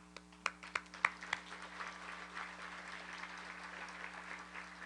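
A few sharp hand claps ring out, then a soft, steady patter of applause continues, fairly faint over a low constant hum.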